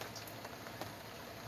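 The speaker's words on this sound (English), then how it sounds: "Rain coming down, just now getting heavier." Rain falls steadily outside on a cloudy morning with thunder and lightning, a faint, continuous patter and hiss with a few soft individual drop ticks and no voices.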